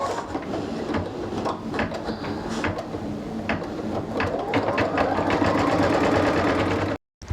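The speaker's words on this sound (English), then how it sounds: "it's going to stitch out the crosses" An embroidery machine stitching pink thread crosses in the hoop, a steady whirring, rapid mechanical stitching drone that runs continuously and close up, then cuts off abruptly near the end.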